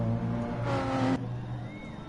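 Race cars in a sim racing game at Spa-Francorchamps, a steady engine drone with a brief louder surge of acceleration in the middle, heard alone without talk.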